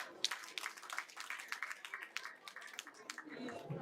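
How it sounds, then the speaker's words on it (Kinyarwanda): An audience claps in a burst of applause at a church wedding gathering, with brisk, dense clapping over the full stretch and voices mixed in underneath. "tumukomera amashyi."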